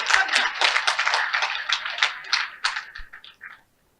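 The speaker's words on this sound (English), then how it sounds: "Please give me a round of applause." Audience at a women's hall of fame induction ceremony clapping in a loose burst, fairly close and bright, thinning out into a few scattered claps before stopping.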